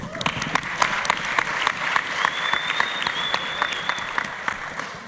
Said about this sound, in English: Let's give another big round of applause to our competitors